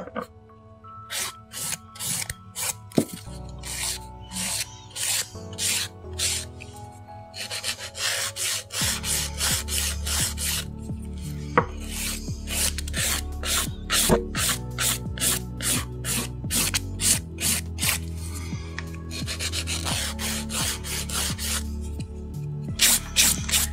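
A long acrylic stiletto nail has its body filed, giving close, rhythmic back-and-forth rasping strokes that are steady and quiet, with brief pauses between passes.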